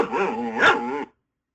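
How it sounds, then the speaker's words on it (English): A seeing-eye dog in an operating room gives a single loud, close bark-like yelp with a whining tail, then silence. "You're not supposed to have a dog in your OR, but that's Spot, our seeing eye dog, so he's allowed"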